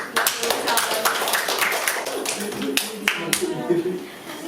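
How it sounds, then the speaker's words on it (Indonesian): Students in an economics classroom clap their hands in a loose, uneven burst of individual claps, close and moderately loud, while a teacher talks over them. "Tuh, tepuk tangan dong."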